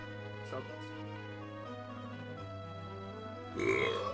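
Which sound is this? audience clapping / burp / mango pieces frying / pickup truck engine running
burp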